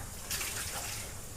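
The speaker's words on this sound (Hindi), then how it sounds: "अभी इसको भाई धो लेते हैं अच्छे पानी से" Water splashing from a tap as a grease-stained T-shirt is rinsed, a steady close gush that swells briefly and continues at even loudness for over a second.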